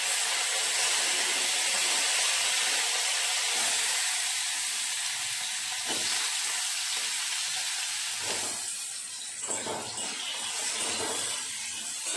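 Green chilies hit hot oil for a tempering, giving a loud, steady, close-up sizzle that runs unbroken throughout, with faint scraping of stirring underneath.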